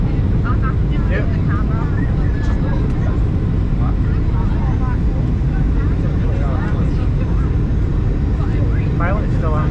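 Steady, loud broadband rumble inside the cabin of a Jet2 Boeing 737-800 landing at Gran Canaria, continuous throughout, with people talking over it.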